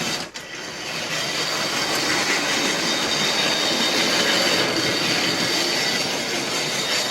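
A Graham Farish Formo OO gauge 3-rail model train pulls its own cars steadily along its track, a continuous close whirring and rattling with faint clicks, no voices.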